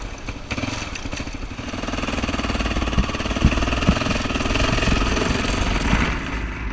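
A heavy adventure motorcycle, the Mule, rides over Slick Rock sandstone slabs near Moab, its engine thrumming close and continuous with a rough, pulsing rumble and occasional knocks as the bike crosses the rock.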